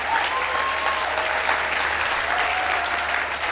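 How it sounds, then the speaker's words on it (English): Continuous clapping from a large seated audience at a business summit, an even wash of hands slapping at steady volume throughout. "For more sales and more recruitment, keep clapping."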